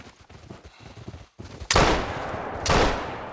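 Two loud rifle shots from a .470 double rifle in the hunting game theHunter Call of the Wild, the first sharp blast with a long rolling decay and a second report about a second later, after quieter game ambience.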